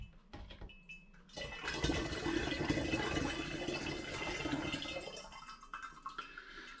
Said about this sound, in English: I'm now going to add the 800 ml of sugar water.